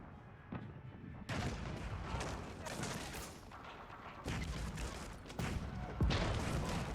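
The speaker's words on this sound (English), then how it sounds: "Initial bombards coming out." Bombards firing in Age of Empires IV during a free-for-all nomad match near a mountaintop wonder, heard as dense, continuous rumbling battle noise with heavy booms and a sharp blast near the end.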